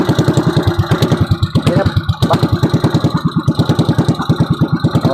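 A boat engine idles with a steady, rapid chugging pulse, loud and close, with no talk over it.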